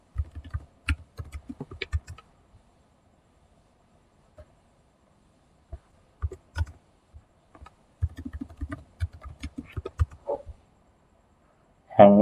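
Clattering keystrokes on a computer keyboard come close and crisp in short bursts, separated by a quiet pause before another flurry of typing, with no talking.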